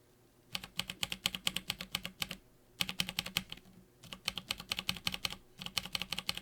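Typing on lubed NovelKeys Blueberry switches fitted with PBT keycaps: quick runs of crisp keystrokes in three bursts with short pauses between them, close and clear, with no voices.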